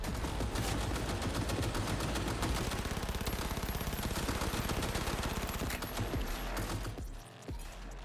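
Rapid sustained automatic gunfire from a weapon in Cyberpunk 2077, a dense loud stream of shots for about seven seconds before cutting off, followed by a brief mechanical clatter; no voices.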